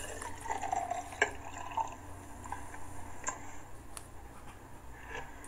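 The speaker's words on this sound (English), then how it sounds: "Now we're going to pour this juice into this glass." Juice is poured into a glass indoors, a faint, thin trickle with a few small drips and ticks over a quiet room background, with no talk.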